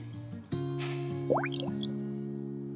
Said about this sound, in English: I should not try to multitask and talk whilst I pour